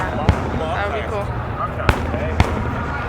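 Fourth of July fireworks over Washington DC, three sharp booming bursts spaced across a few seconds amid crowd noise and cheering, people talking nearby.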